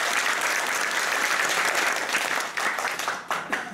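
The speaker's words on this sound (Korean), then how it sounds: "신임 회장으로 당선되신 조신재 회장님께도 진심으로 축하와 격려의 박수를 보내주시기 바랍니다" An audience at an inauguration ceremony applauds the newly elected president, a dense sustained round of clapping from a crowd at middle distance that thins and trails off near the end, with no talk.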